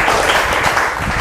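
Congregation at a church service cheering and clapping together in a sustained, dense burst of applause that fills the room, loud and continuous throughout.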